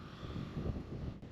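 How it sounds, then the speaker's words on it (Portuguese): Steady wind gusts rumble and buffet the microphone throughout at an abandoned village in Mengollo, with no other sounds standing out. "hoje está ventando"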